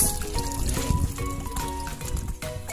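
Water gushes steadily from a flushing Champion urinal, a continuous close splashing trickle with no talk over it.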